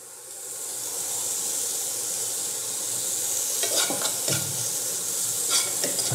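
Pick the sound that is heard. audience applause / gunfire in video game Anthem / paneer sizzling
paneer sizzling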